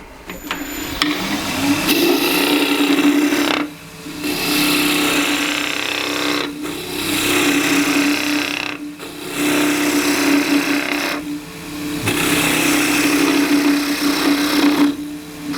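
A wood lathe spins a scrap-wood spatula blank while a tool cuts it in loud, rough bursts of several seconds each. A steady motor hum runs underneath, and the cutting stops briefly between passes.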